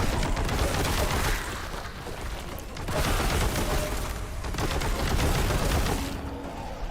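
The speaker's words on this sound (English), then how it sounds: "now I'm shooting you again" Heavy bolter gunfire from a Warhammer 40K shooter roars in a dense, continuous rapid burst, loud and close, swelling and easing in waves with no talking.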